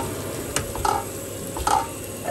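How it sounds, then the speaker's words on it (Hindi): Edible gum (gond) stirred in hot fat in a pan while preparing winter laddu, giving a steady close sizzle with two brief scraping stirs standing out, and no talking. "ये गूंद है, गूंद डालूंगी और इसको ऐसे अच्छे से हिलाना है ताकि ये फूल जाएगा।"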